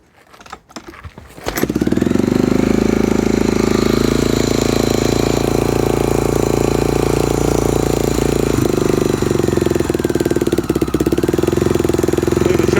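A 1987 Honda XR600 motorcycle kicks over on the first try with choke on, its single-cylinder engine catching after a few faint clicks and settling into a loud, steady, slightly uneven idle that runs continuously up close.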